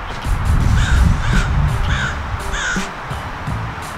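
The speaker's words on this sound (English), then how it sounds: "Shout out to the crow behind me that won't shut up" Crows caw repeatedly outdoors, giving about five harsh, evenly spaced calls that come through loud and fairly close, with low rustling noise underneath.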